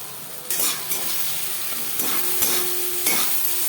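Onion, tomato, spices, salt and turmeric frying in a pan for a Katla fish curry, stirred with a utensil: steady sizzle throughout, with a few sharp scraping strokes against the pan, close and fairly loud, no talking.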